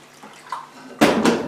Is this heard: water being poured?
yes